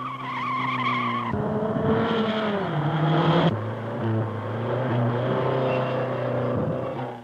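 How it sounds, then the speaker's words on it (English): Ordinary family saloon cars race on a track, their engines whining and shifting in pitch as they accelerate and pass, with tyre squeal mixed into a continuous loud roar. "Ordinary family saloons compete on the track as well as racing cars"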